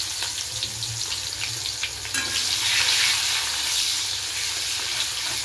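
Onion frying in a pan, with a steady close sizzle that grows louder and brighter partway through, as if stirred, and no voices.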